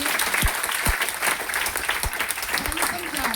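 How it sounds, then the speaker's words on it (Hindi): An audience claps loudly and steadily through a motivational business meeting in Patna, a dense burst of applause with a voice speaking over it. "बहुत बढ़िया, जोरदार ताली होना चाहिए।"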